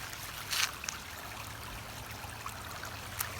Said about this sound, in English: this one has more flowing water